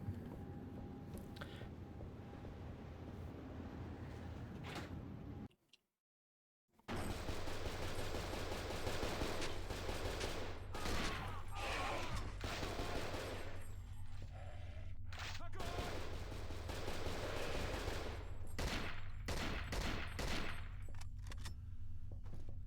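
Gunfire in the survival-horror video game Cold Fear, repeated shots and bursts cracking over a dense, loud game soundscape, broken by a brief silent gap early, with a voice talking intermittently alongside.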